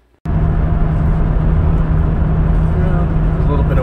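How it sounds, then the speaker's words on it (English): A 2005 Chevrolet Astro van on a road test after rear axle bearing replacement, with wind rushing past the roof rack over a steady engine and road drone that starts abruptly and stays loud and constant. "Wind noise from the rack on the roof"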